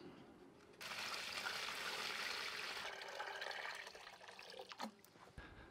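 Water pours steadily into a trap container, filling it to just below the bait, a continuous close rushing splash lasting several seconds before easing into trickles and drips.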